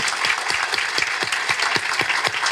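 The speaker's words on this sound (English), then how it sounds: "loud clap." Audience applause at a cultural relations plenary session, dense steady clapping from a crowd filling the whole stretch at even loudness.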